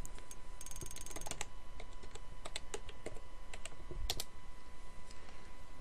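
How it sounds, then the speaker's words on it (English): Rapid typing on a computer keyboard up close, with quick uneven clusters of crisp key clicks and a louder tap near the end over a faint steady hum. "Oh, I'll type it again."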